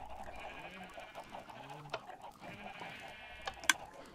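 Sheep bleating in the Minecraft video game, several wavering bleats heard at moderate volume among other farm animal noises and soft in-game sounds.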